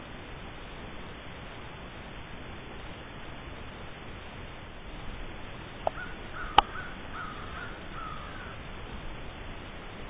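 Crows cawing faintly in the distance as they fly in to roost in trees, a few brief calls over a steady hiss of outdoor background noise.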